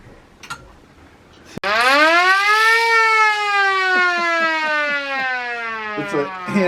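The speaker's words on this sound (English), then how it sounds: "It's a handheld air raid siren." A handheld air raid siren in a veterans' museum starts with a sharp click, then winds up into a loud, rising wail that holds a steady, sustained howl. Faint voices can be heard underneath.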